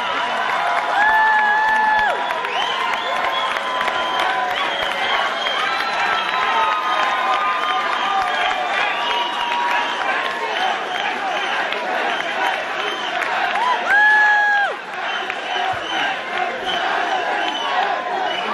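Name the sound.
crowd cheering for HEC dancers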